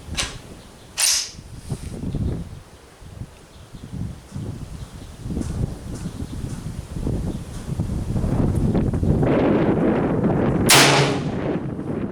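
Gunshots fired at a target on an outdoor range crack out in a few sharp, spaced reports, with wind buffeting the microphone and rustling in between.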